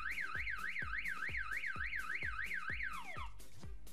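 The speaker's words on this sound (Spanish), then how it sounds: "Entonces voy a hacer que con esta activaré la alarma." An alarm on a homemade printed circuit board, set off by a tap on its impact sensor, wails in a rapid rising-and-falling siren tone over steady rhythmic pulses before the pitch slides downward and the alarm cuts off.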